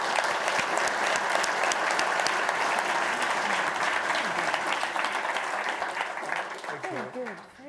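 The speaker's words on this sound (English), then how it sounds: "So a big round of applause for Eddie and Martin" Warm applause closes a fireside chat at a central bank innovation summit, a continuous crowd clapping that holds steady for several seconds before tapering, with a voice starting to speak near the end.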